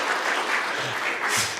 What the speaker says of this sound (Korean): 박수로 한번 환영할까요?